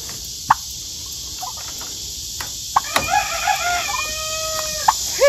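Bantam chickens in a farm pen cluck and crow with several short, fairly close calls, over a steady high hiss of insects in the background.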